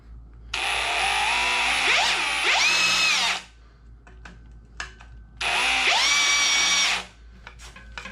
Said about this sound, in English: So we're going to start off by countersinking these holes here.